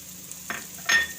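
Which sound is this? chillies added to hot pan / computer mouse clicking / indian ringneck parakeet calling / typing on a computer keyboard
chillies added to hot pan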